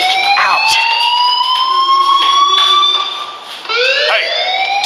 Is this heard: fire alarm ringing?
yes